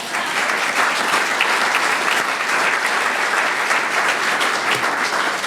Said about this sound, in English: now we can give a big round of applause to everybody that I just mentioned